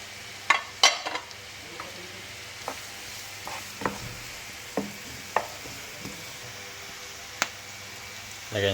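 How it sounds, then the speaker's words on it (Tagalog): Fried pork sizzling in butter and onions in a pan for pork sisig, a soft steady sizzle broken by scattered scraping clinks of stirring, near and fairly quiet. "Lagyan natin ating pork na prito."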